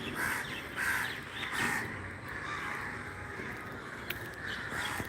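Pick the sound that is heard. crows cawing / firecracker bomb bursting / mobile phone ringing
crows cawing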